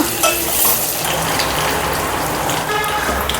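Curry leaves, cumin and a little coriander sizzle loudly and steadily in hot ghee for the tempering of Andhra horse gram soup, a dense, close crackle with no talk.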